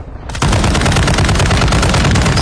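Sustained automatic gunfire in Warzone 2.0, loud rapid-fire bursts that begin abruptly after a quiet moment and continue unbroken to the end.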